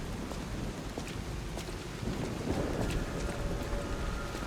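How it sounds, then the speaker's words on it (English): Rain pours steadily through a thunderstorm in the video game Lies of P, a dense hiss with low rumbling and scattered crackles, continuous and fairly loud with no voices. "I love rainy thunderstorms in video games."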